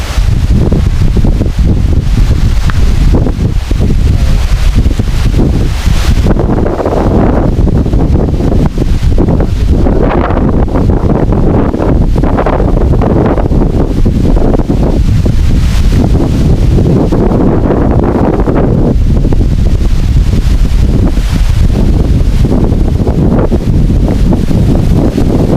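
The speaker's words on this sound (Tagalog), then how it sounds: "Sobrang lakas ng hangin dito." Strong wind roars and buffets continuously, loud gusts battering close by with heavy rumbling, no voices.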